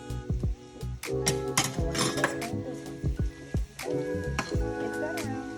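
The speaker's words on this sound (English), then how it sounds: "Mix that around." Ackee and callaloo with added ingredients are stirred in a pot, with a steady sizzle under repeated scraping clinks of a utensil against the pot, close and continuous.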